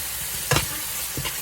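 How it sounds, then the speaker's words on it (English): Soy sauce hits a hot pan while pancit cooks, giving a steady sizzle with a couple of short stirring scrapes over it. "I learned this from my mom, that you make sure you also saute the soy sauce."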